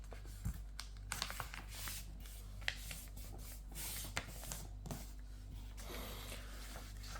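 Origami paper square being folded into a triangle for a crane, soft close rubbing and crinkling with small scattered creases and taps, quiet and without voices.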